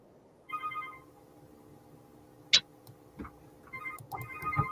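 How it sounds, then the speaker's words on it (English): A mobile phone rings faintly in a quiet room, short tonal ring bursts repeating with pauses between them, plus a sharp click partway through. "I thought I turned my phone off."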